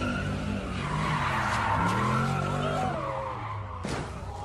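Car wreck in a video game involving a G37, a long, loud tire skid squealing and sliding over a steady engine roar, ending in a brief impact burst, with no voices.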